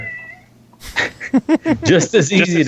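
A fat house cat meows insistently at midnight for a snack. A close, loud, drawn-out meow blends into speech, and a person seems to be talking over it.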